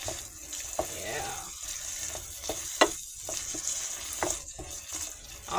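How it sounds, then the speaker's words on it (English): Minced garlic and green onions sizzle and fry in a pan for a curry, a soft, continuous crackle with light clinks and stirring, fairly faint and close. "we're going to put this garlic in here now"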